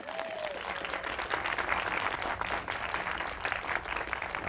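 An audience at a backyard discussion on women and the economy gives a warm round of applause, steady dense clapping that swells slightly and continues throughout.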